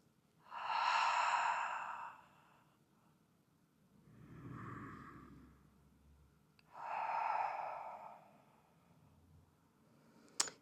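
Slow, audible breaths during a beginner Pilates glute session: two long airy inhales or exhales and a softer, lower breath between them, close and steady with no talking.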